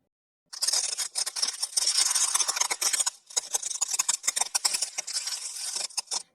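Sharp crackling and snapping of ice, dense bursts of brittle cracks in two stretches with a brief pause between, close and loud, no talking.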